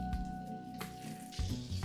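Large chunks of vegetables for coq au vin sizzle and squish as they land in a hot pan, a short close burst of frying with soft clatter.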